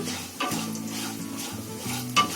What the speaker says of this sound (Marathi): हे पहिले खोबरा चांगला भाजून घ्यायचा